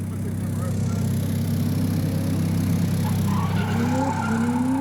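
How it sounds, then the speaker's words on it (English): A Honda CR-V engine droning steadily with tire noise as the driver tries to drift or spin a donut, a continuous loud low rumble with a rising squeal toward the end. "try to get this adrift, man. Or at least do a donut."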